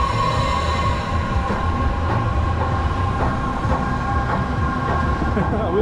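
The Phoenix roller coaster train at Coney Island rumbling along its track, a steady close rattle with rhythmic clacks and a tonal whine throughout.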